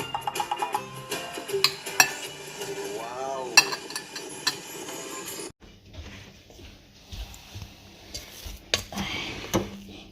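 A utensil stirs rice with extra water in a metal pot, scraping and clinking against the sides in irregular strokes, with sharp knocks and wet, sticky churning throughout.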